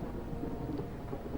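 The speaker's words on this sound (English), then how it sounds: "Is that thunder?" Thunder in Tomb Raider: Legend, heard as a continuous low rolling rumble with a hiss like rain, steady and moderately loud throughout the short stretch.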